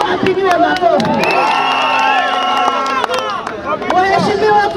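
A crowd cheers loudly for an MCA at a public gathering, with shouts, whoops and horn-like blasts mixed with voices. The sound is close and dense throughout.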